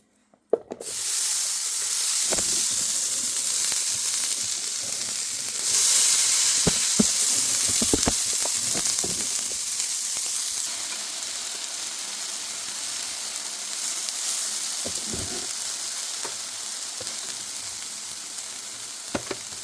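Steak hits a greased hibachi grill with a sudden burst of sizzling that settles into a loud, constant frying hiss, broken by occasional scraping and tapping of utensils, with no voices.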